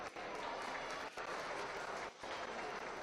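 Applause from spectators at a swine show ring, a dense, steady wash of clapping that fills the space with a couple of brief dips.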